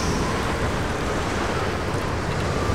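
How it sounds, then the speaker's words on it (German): Wind in the Tomb Raider video game, a steady, full-band howling rush that stays loud and even throughout with no speech. "Mann, ist windig."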